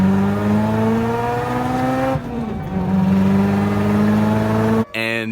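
A car engine with 308 horsepower revs hard through a dyno-style pull, its steady rising drone loud and close, briefly dipping midway before surging again and cutting off abruptly near the end.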